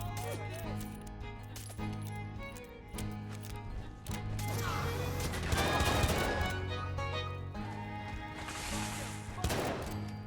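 Rapid revolver fanning in modded Fallout 4 with the Peacekeeper revolver, a quick cluster of sharp, close shots in the middle under someone talking steadily over a low background hum.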